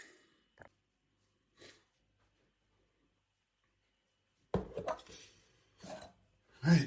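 Fish and chips go into an oven with a few faint clinks and rustles, then louder close clattering of a metal tray, ending in a sharp clunk, with quiet gaps between.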